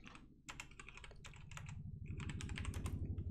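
Close-up typing on a computer keyboard at a Raspberry Pi 4 terminal, with quick irregular key clicks in short clusters, fairly quiet and without any voices.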